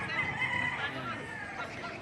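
Chickens and roosters at a Tuesday poultry market in Padre Garcia, Batangas, with crowing and clucking rising over a steady crowd murmur of people talking nearby.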